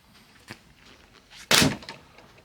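A magnetic door skin snaps onto a door with one sharp, close thunk after a lighter tap, then quiet.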